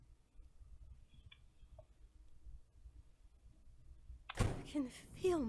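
A door opening in The Long Dark survival video game: a quiet, near-silent stretch breaks into a sudden loud thump and creak near the end, followed by voice-like sounds.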